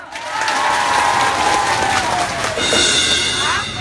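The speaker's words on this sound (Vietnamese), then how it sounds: "cũng xin được tất cả mọi người chúng ta cùng vỗ tay" An indoor audience at a community exchange event in Nghe An claps steadily throughout, a dense, even wash of applause with faint cheering and a brief tone rising near the end.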